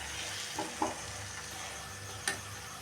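Chili powder being stirred into a cooking tomato mixture for tomato rice: a soft, steady sizzle with a few brief scraping stirs, quiet and close.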